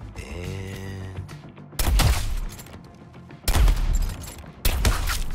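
Sniper rifle shots in the Suicide Squad Kill the Justice League video game: three loud, heavy blasts, each with a long booming decay, fired a second or two apart after a brief musical tone.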